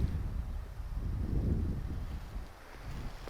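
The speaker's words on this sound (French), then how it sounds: "il y a du vent ce soir" Wind gusting through trees on a night outdoors, a steady low rushing roar that swells and eases, fairly loud and close, with no voices.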